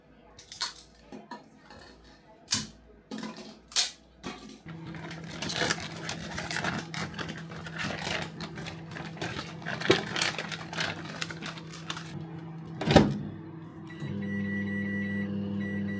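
Clinks and clatters of dishes come first, then a microwave oven's steady low electrical hum drones on, broken by a beep, with a higher-pitched whirring tone near the end.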